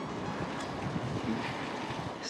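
Steady wind roars across the microphone while cycling into a headwind, a constant broadband rush with no voices, close and continuous.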